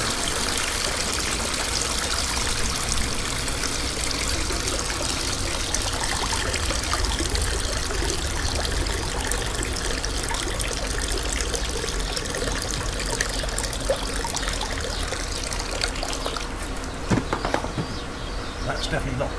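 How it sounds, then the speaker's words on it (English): Water steadily trickles and splashes out of a robotic pool cleaner held up at the poolside, a continuous nearby draining stream lasting throughout with a brief louder splash near the end. "Stand like this till the water comes out."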